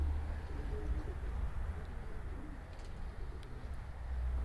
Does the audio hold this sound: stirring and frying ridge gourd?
no